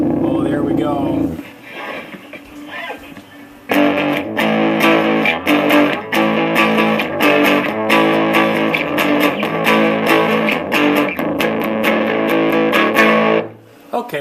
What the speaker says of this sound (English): Okay, so it's more of a fuzz circuit than it is a distortion circuit.